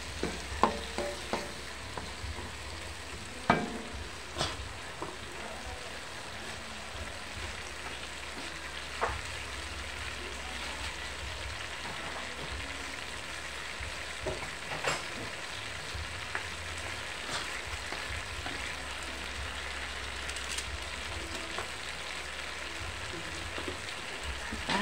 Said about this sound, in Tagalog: Igisa lang natin sa kamatis.